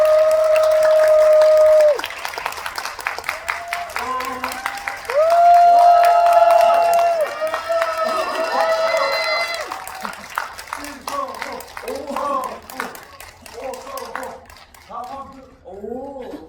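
Audience applause greets directors and actors entering a Korean film screening and GV event, with clapping and crowd noise under a loud voice and a sustained tone for the first several seconds, then scattered clapping continuing beneath speech.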